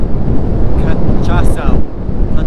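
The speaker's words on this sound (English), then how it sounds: "Oh, that wind!" Strong wind on Brava island, Cabo Verde, buffets the microphone in a loud, continuous roaring rush, while a voice speaks briefly over it.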